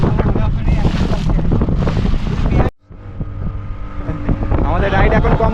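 A speed boat rides over the sea at New Digha, its motor and rushing water mixed with heavy wind buffeting the microphone, broken by a brief dropout midway.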